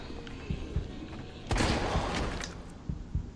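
Magnum revolver shots in Resident Evil 3 Remake, a few sharp gunshot thumps spaced through the stretch with one heavier blast and a lingering roar in the middle, heard at moderate level from game audio.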